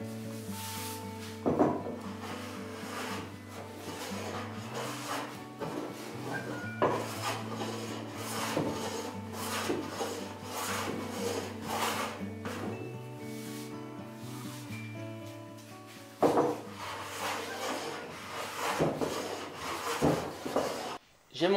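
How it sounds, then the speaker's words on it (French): Repeated rasping strokes of a finishing hand plane across a wooden workbench top, close and steady, with brief pauses and clunks between passes. "le reste va se faire avec un rabot de finition"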